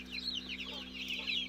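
Newly hatched chicks from a mass incubator hatch peep in rapid high-pitched overlapping cheeps, close and continuous over a low steady electrical hum.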